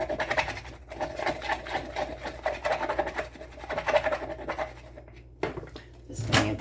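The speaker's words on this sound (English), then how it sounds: "Give this a quick stir." Melt and pour soap being stirred in a container, a steady scraping and rubbing texture repeating through most of the stretch, fairly close, with a brief pause near the end before a final scrape.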